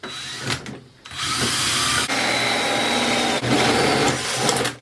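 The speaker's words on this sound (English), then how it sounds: "I'm going to be drilling straight down to a table here" A power drill whirs steadily at high speed, close by, drilling straight down into a plastic soil pipe, pausing briefly near the start and again partway through before continuing.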